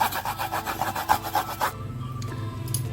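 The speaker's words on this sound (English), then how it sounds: "I'm going to grate the ginger" Ginger is grated in quick, rhythmic rasping strokes, about seven close scrapes in a row, then the grating stops and leaves quiet kitchen background.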